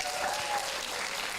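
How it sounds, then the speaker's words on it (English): A cheering squad applauds at a sustainability forum event in Manila, a steady wash of clapping hands heard from a short distance, continuous throughout with a faint whistle. "There's a cheering squad."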